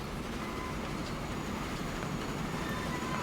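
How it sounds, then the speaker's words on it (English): Trains running in the railway simulation game Transport Fever 2: a constant rolling rumble with faint rail clatter, steady and unbroken, no voices. "A bit of train watching."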